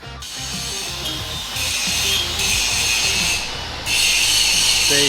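Power tools cut and grind away parts of a gutted motor frame, making a continuous harsh, rasping metal-on-metal grind that shifts in pitch and intensity as the tool bites, close up, with no talking.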